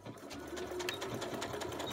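A sewing machine stitching over an existing seam on a dress, a continuous close, even mechanical whir with rapid needle ticking and no talking.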